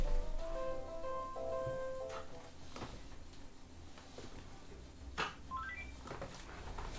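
Telephone ringing indoors, a few short melodic electronic tone bursts at the start, followed by scattered clicks, knocks and a rising sequence of beeps, fairly faint under a quiet room hum.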